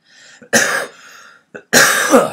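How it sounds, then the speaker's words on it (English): Two harsh, loud coughs close to the microphone, each preceded by a short intake of breath, with a brief pause between them. "still got this cough by the way"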